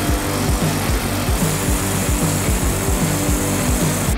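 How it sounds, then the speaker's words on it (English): A Sawzall reciprocating saw cuts through thick aluminum sheet for a hood vent, its rapid, even strokes buzzing loud and close without a break. "I think the Sawzall would be best here."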